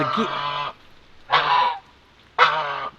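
Three loud honks from a goose, each about half a second long and evenly spaced, close by with quiet in between.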